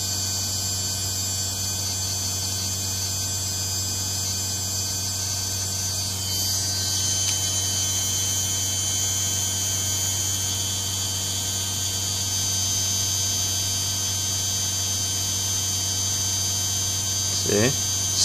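A small DC motor runs on a battery while it charges, giving a steady electric hum with a high whine, loud and constant, and a brief sharp sound near the end.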